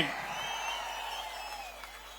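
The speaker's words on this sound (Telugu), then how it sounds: "గట్టిగా చప్పట్లు కూడా చెప్పండి అవునని." A political rally crowd in Kuppam claps steadily for a couple of seconds, a dense wash of applause with a few whistles cutting through, fading slightly toward the end.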